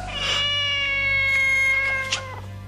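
One long, loud caterwauling cat wail, sustained and wavering with a rising tail, close and unaccompanied.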